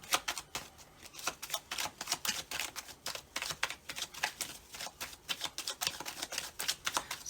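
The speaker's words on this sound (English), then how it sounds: "let's start to shuffle here and see if anything falls out" A very old, worn deck of cards riffled and shuffled repeatedly, a steady stream of quick papery flutters and snaps close up, with no talking.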